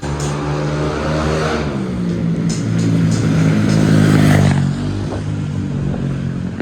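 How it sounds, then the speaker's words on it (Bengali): Loud motorcycle engines rumble along a street in Laos beside a bike and car repair garage, a steady close drone that swells with revving in the middle before easing back, with faint clatter over the top. "মোটরসাইকেল, খুব নয়েজ তৈরি করে, খুব জোরে আওয়াজ করে"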